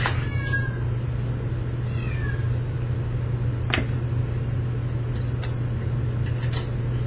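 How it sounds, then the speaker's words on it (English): A cat meows a few times, thin and drawn out, over a steady low mechanical hum like a fan. "if you can hear my cat in the background"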